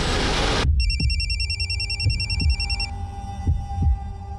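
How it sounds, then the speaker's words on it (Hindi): A phone rings with a rapid electronic trill for about two seconds, while low, heavy thumps pulse steadily underneath like a heartbeat. "ये फोन किसका बज रहा है?"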